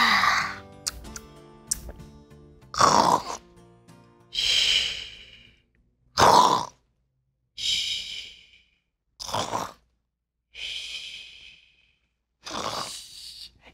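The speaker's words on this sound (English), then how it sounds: "It sounds like she's snoring." A woman asleep after a full meal lets out about eight rhythmic snores, each a loud snorting breath followed by a short pause, heard alone with no talking.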